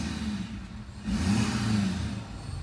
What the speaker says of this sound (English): Definitely more turbo noise at the front of the truck.